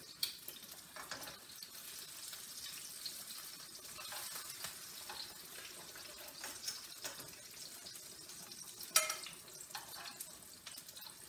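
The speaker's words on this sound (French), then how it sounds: "Je vais prendre les pommes de terre et je vais les faire cuire aussi." Potatoes frying in a hot pan, a faint, continuous crackling sizzle with scattered sharper pops and occasional stirring noises, close by and without voices.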